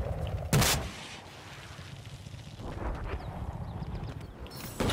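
In Battlefield 4, weapon fire aimed at an aircraft opens with a sudden loud sharp blast, followed by a lower rumbling stretch and a few further shots, ending on another abrupt loud burst.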